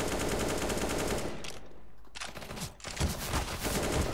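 Dense rapid automatic gunfire in the Counter-Strike (CSGO) video game, loud continuous bursts that break off briefly, then resume with more crackling shots.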